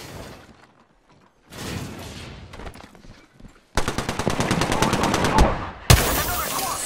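Automatic gunfire from a firefight in Apex Legends: scattered shots early, then a dense, loud burst of rapid fire and a sharp impact near the end, with no talking.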